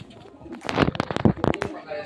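Racing pigeons cooing and fluttering at a loading area before a third training toss in Candelaria, Quezon, with brief bursts of soft calls and wing shuffles under a voice.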